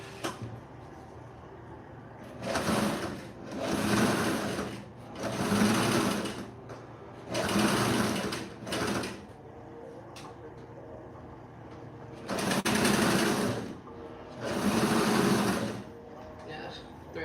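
A sewing machine stitches a bed pillow in six or seven bursts of a few seconds each, with short pauses between runs as the fabric is turned; a faint voice can be heard in the background.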